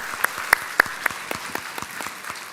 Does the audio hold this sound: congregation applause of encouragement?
yes